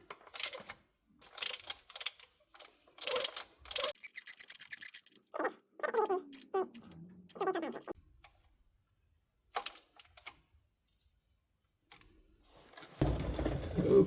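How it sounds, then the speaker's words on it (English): A regular hand wrench ratchets in short bursts of clicking while a transmission drain plug on a BMW E38 750i V12 is tightened, with pauses of quiet between bursts and a low rumble at the end. "so let's tighten it now. Of course, with a regular wrench and not with an impact"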